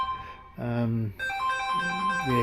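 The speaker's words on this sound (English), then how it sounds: "oops, phone's ringing." A mobile phone ringtone plays nearby as a melodic electronic tune with clear sustained tones, starting softly and growing louder after a brief pause.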